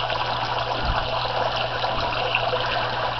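Water drains back into the fish tank of a homemade aquaponics system built from a tote and barrel, dropping through a rock and pea stone filter in a steady, close trickle that runs alone without a break.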